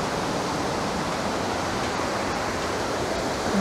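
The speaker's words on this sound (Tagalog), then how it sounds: "May nag-welcome na po sa atin ng Maranong Falls." The steady, rushing roar of Maranong Falls in Natividad, Pangasinan pours on without a break. The water is close and loud, and no one speaks over it.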